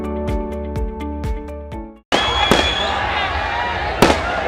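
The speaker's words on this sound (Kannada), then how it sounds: "ಈ ಪಟಾಕಿ ನನಗೆ ಬೇಕಾಗಿಲ್ಲ" Firecrackers burst during a political rally in Ramanagara, a rapid string of sharp cracks at first, then a loud dense crackling roar with a few heavy bangs, close and continuous.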